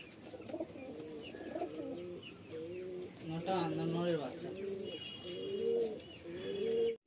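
Madrasi pigeons coo repeatedly in a loft, a run of rolling low coos close by, with a few chirps and a wing flutter near the end.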